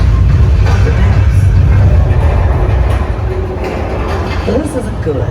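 On a sound stage dressed as a subway station, a mechanical special effect rumbles as a loud, steady roar like a passing train, with a person's voice faintly audible under it.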